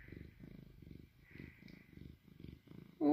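An oriental cat purrs in a steady, rhythmic pattern, the low rumbling pulses repeating at close range with a louder bump at the very end.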